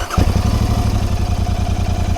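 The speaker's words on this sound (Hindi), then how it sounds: "एंड इसका एक बार आइडल सुनते, स्टॉक है अभी फ़िलहाल मेरे GT स्टॉक है।" A stock-exhaust Royal Enfield Continental GT 650 idles close by with a steady, even parallel-twin thump, the pulses loud and regular throughout.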